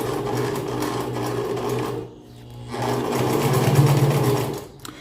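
A sewing machine stitches a seam along a jeans waistband, running in two steady bursts with a short pause between, close and loud with no talk.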